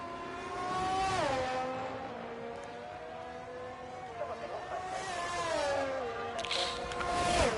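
An AlphaTauri Formula One car in a racing video game, on the Mexico circuit during qualifying, pulls away again with a high engine whine sweeping through gear changes. It is steady and fairly loud, with commentary voices talking over it.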